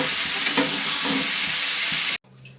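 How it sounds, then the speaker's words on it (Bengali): Green chillies fry with salt and turmeric in a hot pan, a loud, steady sizzle that cuts off abruptly near the end into quiet background. "কাঁচা লঙ্কা আর নুন হলুদটা দিয়ে দেবো, দিয়ে ভেজে নেবো, ভালো করে ভাজবো"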